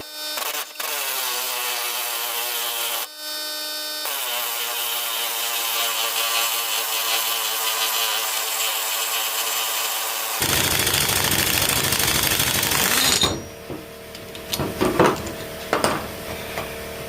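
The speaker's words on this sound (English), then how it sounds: "got my impact out, and let's see if we can get this" Air impact wrench on a Chrysler round-back alternator nut during a rebuild: a long, loud, steady pneumatic whir that shifts pitch partway through, then stops and gives way to clatter and handling noises.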